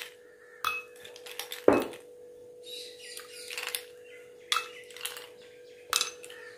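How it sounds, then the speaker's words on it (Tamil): Ice cubes drop into a tumbler for a cold sweetened summer drink, making a handful of sharp, close glassy clinks spaced irregularly, with quiet pauses between them. "அப்புறம் ஐஸ் கியூப்ஸ்."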